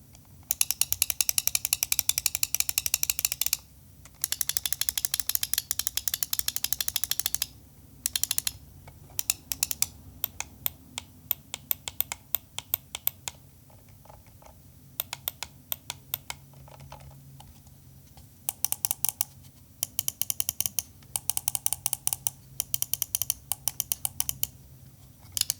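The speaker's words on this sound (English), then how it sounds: "The one thing that lags behind, in my opinion, is the sound of the clicks, so let's do a quick sound test." Razer DeathAdder V3 Pro gaming mouse optical switches clicked repeatedly up close, in rapid bursts of sharp crisp clicks separated by short pauses, with no talking.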